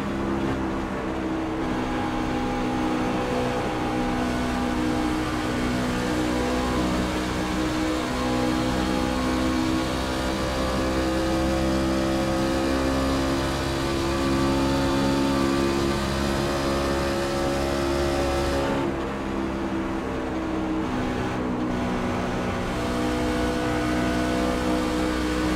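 An iRacing truck tears around Autoclub Speedway at full speed, its engine a loud, steady high-pitched drone with layered harmonics, pitch shifting gently through the lap and dipping briefly as the throttle lifts before surging back.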